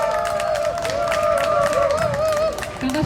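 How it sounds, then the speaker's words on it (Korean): A small crowd at an outdoor press conference in Busan, held for Pedestrian Day on mobility rights for people with limited mobility, gives scattered, moderate applause beneath a sustained, wavering tone. "큰 박수 부탁드리겠습니다"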